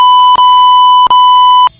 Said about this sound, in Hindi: मैं बीप डाल दूंगा उसमें